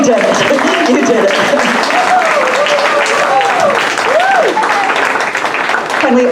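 An audience gives a concert band a sustained round of clapping at a community band concert in Boynton Beach, Florida, while someone speaks over the applause.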